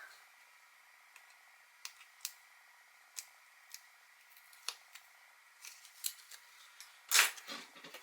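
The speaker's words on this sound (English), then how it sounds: "take the score tape off both sides" Backing strips peeled off double-sided score tape for a paper craft album, heard as faint ticks and small snaps, then a louder crackling tear near the end over a soft steady hiss.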